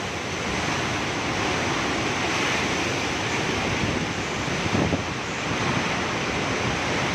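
Roaring Super Typhoon Rolly wind tears past behind a house in the Philippines, a dense, unbroken rush of noise that stays loud and steady throughout.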